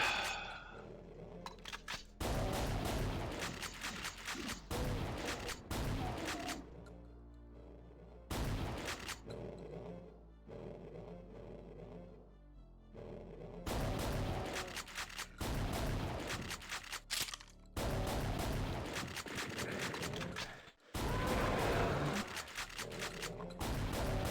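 Chaingunner enemies in Doom II fire in dense bursts of rapid gunfire, loud and close, broken by short quieter gaps, with speech in places.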